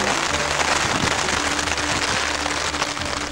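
Steady heavy rain falls on the Isle of Skye, a dense continuous patter filling the clip with no pauses.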